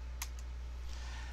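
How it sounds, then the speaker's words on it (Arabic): A computer keyboard's Enter key is pressed, giving a couple of quick, faint plastic clicks close together against a quiet, humming room. "ثم نضغط على enter"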